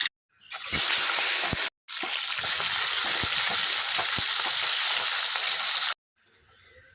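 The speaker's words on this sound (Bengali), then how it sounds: "কড়াইতে তেল দিয়ে দিয়েছি, মাছ দিয়ে দিচ্ছি।" Live tilapia fish sizzle and crackle loudly in hot oil in a wok, a dense, continuous frying hiss that cuts out briefly twice before fading to a quieter sizzle.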